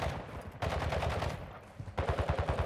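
Rapid bursts of automatic gunfire in Call of Duty Modern Warfare II DMZ, dense and continuous with brief breaks, sounding like game audio heard at moderate distance.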